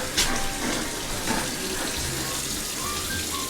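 Water runs steadily from a tap after a well tank replacement, a constant loud hissing rush with no talk.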